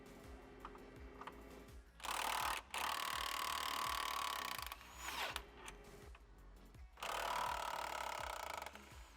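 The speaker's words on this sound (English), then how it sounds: "Now we're going to take these two front Torx bolts that are all the way at the front and completely remove them." Power tool bursts spinning out the front Torx bolts on a Rivian R1T during a rock slider install: three loud whirring runs, separated by quieter ratchety clicks and tool handling nearby, with no talk.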